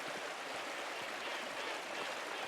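Waterfall in the video game Pentiment pours down steadily, a constant broad hiss of rushing water with no breaks and no talking.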